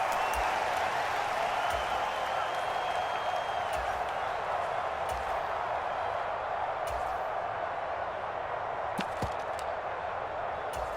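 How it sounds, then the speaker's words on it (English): Home crowd in the Madden NFL 23 video game roaring steadily as a distant, continuous wash of cheering with a few sharp clicks, no talk over it. "And the home crowd loves it."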